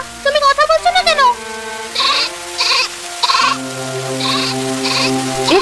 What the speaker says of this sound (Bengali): ছাগলের ঘর থেকে কান্নার শব্দ আসছে কেন?